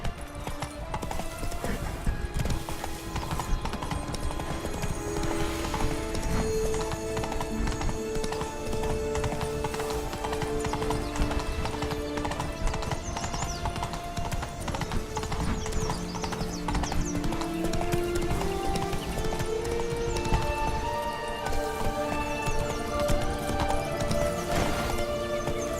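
Horse hooves galloping in The Witcher 3, a steady rapid clip-clop running continuously and fairly close, with occasional whinnies and game music underneath.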